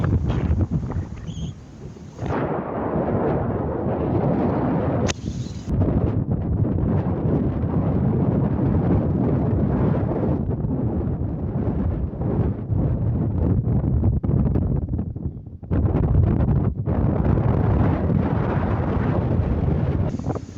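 Strong wind roars and buffets across a hilltop lookout in Czechia, loud and continuous with brief lulls, battering the microphone throughout and heard alone with no voices.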